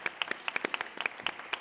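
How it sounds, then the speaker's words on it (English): Audience at a Bharatanatyam dance debut recital claps in a brief, scattered burst of individual hand claps, fairly close and moderately loud. "Please give a round of applause for Vignesh Ravichandran"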